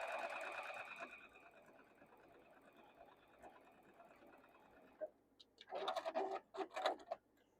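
A domestic sewing machine stitches a quilt block, a steady mechanical whir running for several seconds, then a pause and a few short, louder bursts of stitching close by.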